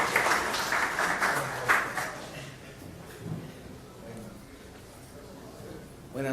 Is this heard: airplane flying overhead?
no